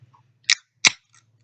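A can of Liquid Death still mountain water is cracked open with two crisp, sharp clicks of the tab in quick succession, close and isolated, followed by a faint trailing tick.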